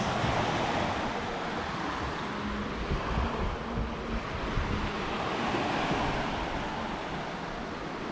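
Ocean surf breaking continuously on an empty Jamaican beach, a steady broad wash of waves with some wind rumble, fairly close and loud throughout with no voices.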